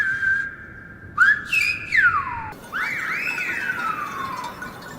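Whistled language: a loud, clear human whistle sliding through rising and falling pitch contours that mimic spoken intonation, with several brief phrases followed by a longer sweeping whistle, heard alone.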